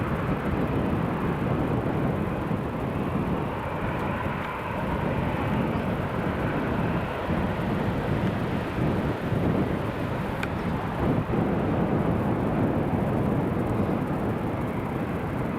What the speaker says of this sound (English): I think the TUI might have to go around here